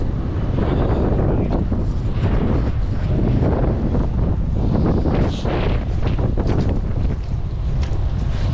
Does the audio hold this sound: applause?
no